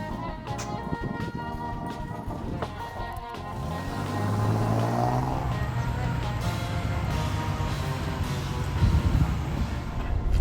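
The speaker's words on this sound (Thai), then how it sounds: "ตอนนี้ผมก็มาลองขับนะครับ เจ้าเชฟโรเลตลูมิน่า" A Chevrolet Lumina V6 sedan is test driven, its engine and road noise a steady low hum from inside the cabin that rises slightly in the second half, with no one speaking.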